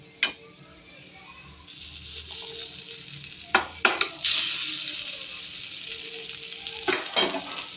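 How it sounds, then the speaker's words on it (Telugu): Cooked Maggi noodles go into a pan and get stirred, with metal spoon clinks and scraping against the pan over a steady background hiss, and a few sharper knocks along the way. "ఇప్పుడు మనం కుక్ చేసుకున్న మ్యాగీని వేసేసుకుందాం"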